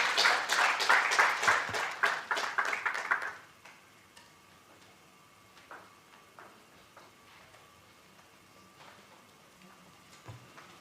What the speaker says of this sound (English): Another round of applause to thank the DVC for the impactful closing remarks.